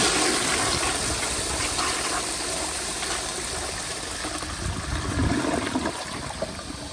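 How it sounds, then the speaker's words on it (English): A 1942 Standard Modernus toilet on a flushometer flushes at full pressure, with a loud, close rush of water that gradually eases into a steadier refilling swirl. "let me give y'all one more flush on full pressure"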